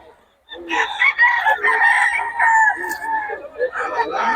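Young roosters, stags, crow loudly and close by in a run of drawn-out, overlapping calls, with clucking and a few background voices mixed in.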